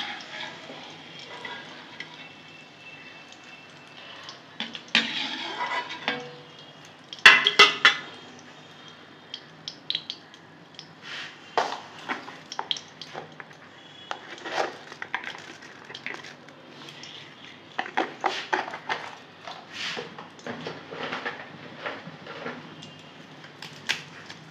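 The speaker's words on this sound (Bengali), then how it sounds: "ডিমের খোলগুলো সব আমি ভেজে নেব।" Eggshells frying in a pan for an egg recipe, giving irregular crackling clicks and taps with metallic pan clinks, moderately close with quiet gaps between bursts.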